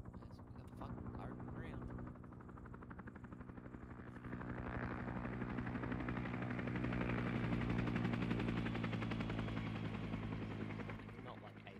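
A helicopter in the video game Arma 3 drones steadily, its rotor thumping and swelling louder midway, while scattered distant gunshots crack faintly and players talk over the sound.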